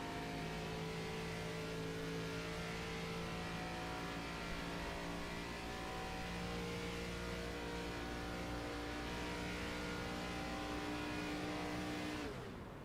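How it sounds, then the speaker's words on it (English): Race car engine droning steadily from on board at Auto Club, a continuous hum with layered harmonic tones that barely changes before cutting off near the end, no voices. "He is turning the car on and off"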